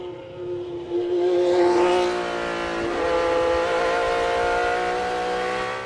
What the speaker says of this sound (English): It has the proverbial Ferrari 12-cylinder whine.